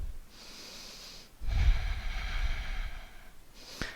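Deep, steady breathing during a yoga plank pose, with a long airy exhale followed by a strong nasal breath and a faint click at the end.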